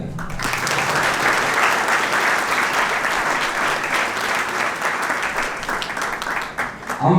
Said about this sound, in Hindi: सबसे पहले तो उन सबके लिए जोरदार तालियां।